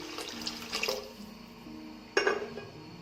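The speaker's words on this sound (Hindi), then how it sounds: "अब 7 कप हम पानी के डालेंगे" Water poured from a tap or jug into a pot of rice while making chana pulao in a home kitchen, a steady splashing flow with a louder gush near the end, no talking.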